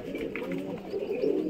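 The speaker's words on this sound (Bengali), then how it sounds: "দেখতে পাচ্ছেন এই পায়রাগুলো উড়ে এসেছে" Pigeons just landed after a long flight in hot weather, cooing softly and steadily close by, with faint chirps above the low murmur.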